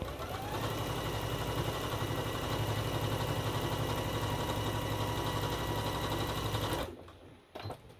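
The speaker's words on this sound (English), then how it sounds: "Yes, I did turn my machine up for this because it's just straight line stitching." Home sewing machine running fast through straight-line quilt piecing, a loud steady whir with rapid needle rhythm for about seven seconds before stopping, followed by a couple of faint clicks.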